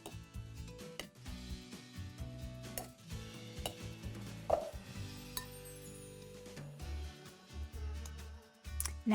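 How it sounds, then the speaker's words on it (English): A cookie scoop portions keto browned butter chocolate chip cookie dough in a bowl, giving irregular clinks and soft scrapes of metal against the dish, with quiet gaps between scoops. "I'm going to divide the dough with my cookie scoop"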